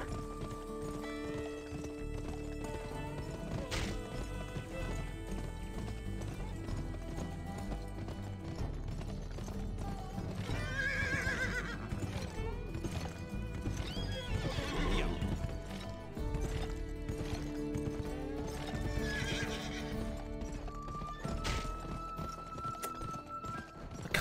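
A video-game horse neighs and whinnies repeatedly while its hooves clip-clop steadily underneath, with game music and effects in the background.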